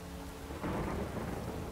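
Rain and a low rolling rumble of thunder from the video game Witcher 3 fill a short stretch, a steady wash of falling rain with the thunder swelling midway, no voices present.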